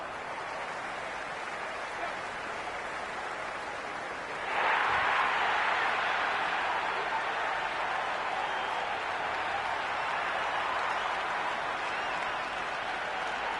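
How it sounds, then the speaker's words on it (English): A cricket stadium crowd roars in the video game Cricket 26, a steady distant murmur that swells abruptly into louder cheering and applause midway and stays raised. "There's an almost tangible fervour throughout the crowd at the moment."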